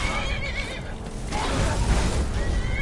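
In Skyrim, a horse lets out a drawn-out neigh near at hand, its quavering call rising and falling over a low rumble of game noise, with another short whinny toward the end.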